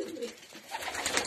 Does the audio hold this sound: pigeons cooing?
yes